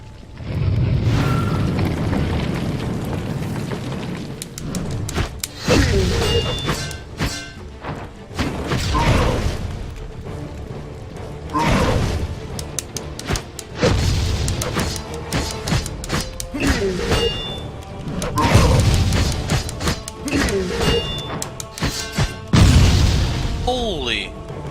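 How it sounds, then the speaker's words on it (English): Booming blasts and crashing rumble as a huge explosion brings down a cathedral's central structure in the video game Anima: Gate of Memories, loud heavy impacts recurring in waves over a continuous roar. "a huge explosion destroyed the entire central structure of the cathedral and the whole place went down,"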